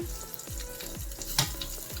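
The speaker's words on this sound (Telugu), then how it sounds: "ఈ పచ్చడిలో ఈ తాలింపు పోసేసుకుందాం" Hot tempering poured into mint chutney gives a faint, steady sizzling crackle with soft repeated low thumps beneath it, close and without speech.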